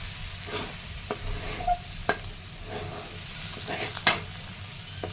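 Moong dal and onion sizzle steadily in a pan with red chili powder while a spoon stirs, giving a soft continuous hiss punctuated by occasional scrapes and taps.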